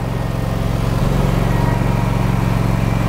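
A Cub Cadet Pro Z900 zero-turn mower with big dual rear tires runs steadily while turning on a steep slope, its engine giving a loud, continuous close-up drone with no talk.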